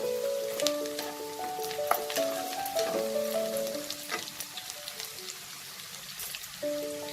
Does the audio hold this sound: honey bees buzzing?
no